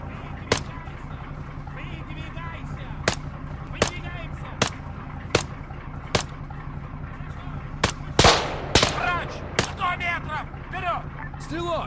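Regular gunshots crack out in the tactical shooter Arma 3 during an Antistasi firefight, sharp reports spaced about a second apart, followed by a heavier blast and a scatter of distant fire, with a voice speaking over the combat.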